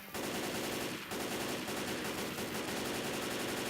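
Sustained automatic gunfire in a zombie shooter game, a loud continuous machine-gun rattle with only a brief break near the start.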